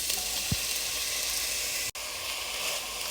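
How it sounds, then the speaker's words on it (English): Onions hit hot coconut oil in a pot and sizzle loudly and steadily up close, with a brief stir or clatter partway through. "I'm gonna add the onions."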